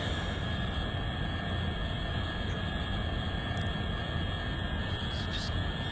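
Scramjet engines of an XR5 spaceplane in the Orbiter 2010 flight simulator, a steady dense roar that holds unbroken and loud throughout, with no speech over it.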